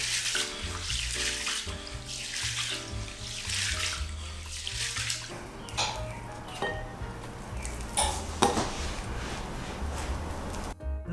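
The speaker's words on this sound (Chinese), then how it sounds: "接下来就把大枣和绿豆清洗一遍" Tap water runs and splashes as jujubes and mung beans are washed by hand in a kitchen sink, a continuous close gush broken by sloshing and small clatters of the beans and fruit, with no talking.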